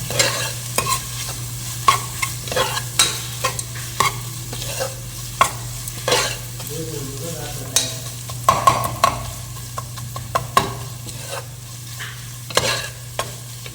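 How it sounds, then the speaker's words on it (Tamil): Chickpeas sizzle and crackle in hot oil while a spoon stirs and scrapes the pan in frequent clinks, close up, with a steady low hum behind. "இது கொஞ்சம் நல்லா ஃப்ரை ஆகட்டும் எண்ணெயில்."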